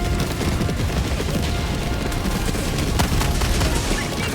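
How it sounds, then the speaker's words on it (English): Bomb blasts and gunfire in the Helldivers 2 video game, heard as a dense, continuous loud barrage of explosions and shots with heavy low rumble throughout. "oh, bomb behind us"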